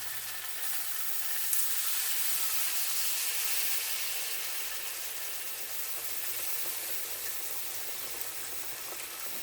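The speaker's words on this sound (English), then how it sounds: "I'm going to deglaze the frying pan now." Steady, soft sizzling from a hot frying pan being deglazed with stock, a continuous hiss that rises briefly early on and then settles, with no voices.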